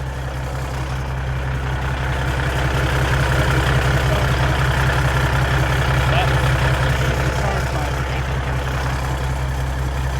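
A Peterbilt pull truck's diesel engine with a 3,000-horsepower billet turbo runs steady and loud up close, a deep continuous drone with a slight swell in the middle rather than sharp revs.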